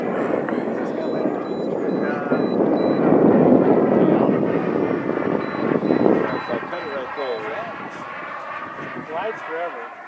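3D printed Avro Vulcan RC jet with a 50mm EDF coming in to land, a rising then fading ducted-fan whoosh and rumble outdoors, with people talking throughout.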